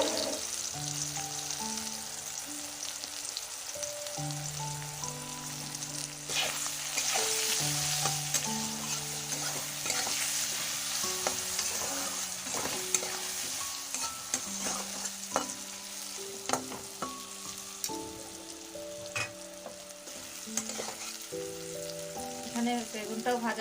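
Eggplant pieces frying in a pan with a little salt and turmeric for a Bengali fish curry, giving a steady sizzle with repeated stirring scrapes over background music throughout.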